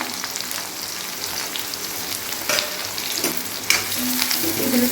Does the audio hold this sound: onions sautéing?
yes